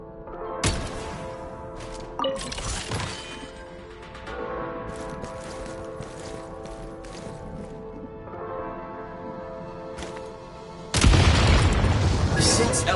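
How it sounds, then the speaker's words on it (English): Explosives detonating to clear a blocked path in Genshin Impact, a sharp boom near the start and another around two seconds, then a louder sustained burst of blast noise at the end, all over steady game music. "Shoot the explosives to detonate them and clear the path."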